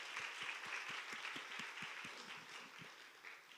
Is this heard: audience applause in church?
yes